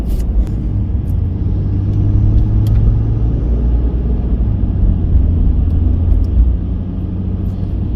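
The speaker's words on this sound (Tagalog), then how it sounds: "Medyo crowded tayo ngayon dito sa Canada, crowded na yung mga ganyan sasakyan pagka nagkasabay-sabay." Cars and trucks pass on a busy highway in Edmonton, Alberta, a loud continuous road rumble and tire roar with steady engine drone heard from inside a moving car.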